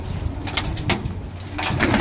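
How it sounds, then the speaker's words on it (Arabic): French meat pigeons of the pure breed coo in a loft, a few soft close throaty calls over low background rumble, with no one speaking. "حمام تحته زغاليل ونايم على بيض"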